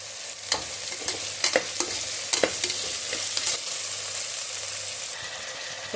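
Onion with ginger-garlic paste sautés in a hot pan, a soft continuous sizzle punctuated by intermittent scraping stirs, close up and with no one speaking.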